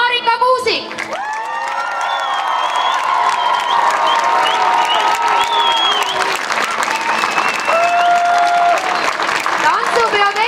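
An outdoor crowd at the closing of the Järvamaa song and dance festival breaks into loud, sustained applause with cheering and whoops, while a voice speaks over the noise.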